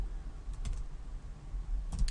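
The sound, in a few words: typing on a computer keyboard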